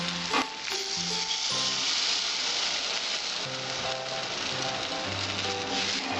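Water poured into a pan of frying prawn and potato masala curry, giving a loud, steady sizzle that stays constant throughout with no voices.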